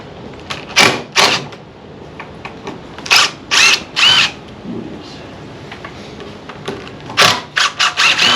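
A power drill works at Torx screws on a Frick sawmill, with several short loud whirring bursts separated by pauses and a few quieter clicks and handling noises.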